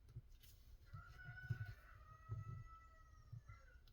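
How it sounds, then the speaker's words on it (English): A distant rooster crows once in a long drawn-out call, faint against quiet surroundings with soft low thumps. "Don't those roosters ever sleep?"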